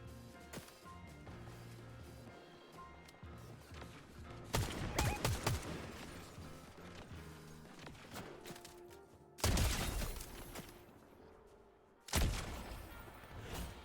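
Bursts of Fortnite gunfire, including rapid volleys and two loud close shots near the end, over a steady game background.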